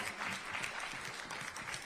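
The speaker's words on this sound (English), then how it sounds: "Let's applaud her for what she has done" An audience at a Black women's leadership public policy forum breaks into warm, sustained applause, many hands clapping at once in a dense, even patter for a couple of seconds.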